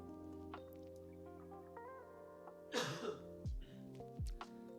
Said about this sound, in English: I try to lean away from the microphone whenever I have to cough like that.